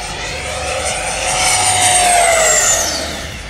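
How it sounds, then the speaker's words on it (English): An electric RC airplane on 8S power makes a high-pitched whine that swells as it passes close overhead, then fades and drops in pitch as it flies away. "not trying to get the plane to fly into the wind"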